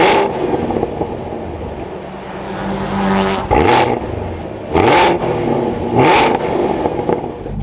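A 2023 Chevrolet Camaro ZL1 with manual transmission fires up and idles with a deep, loud rumble, then blips its engine in three sharp revs that rise and fall, close by.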